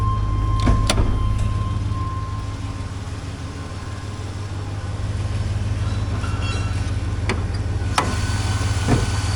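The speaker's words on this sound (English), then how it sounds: "Let's take a listen to that 454 under the hood." A 1997 GMC Suburban 2500 with the 7.4L 454 V8 idles under the hood, a steady low rumble with a few sharp clicks or knocks and no talk.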